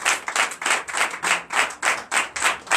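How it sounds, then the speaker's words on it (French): Rhythmic congregational clapping at a Sunday worship service in Comè, Benin, an acclamation for Jesus: steady, loud, evenly spaced claps from a group, about three per second, with no talk over them. "Donne l'acclamation à Jésus."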